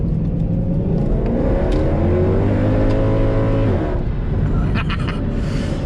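Mercedes W204 C63 AMG with a carbon fiber hood and lighter battery pulling hard on a test drive, engine note climbing steadily then easing off near the end, loud and continuous inside the car.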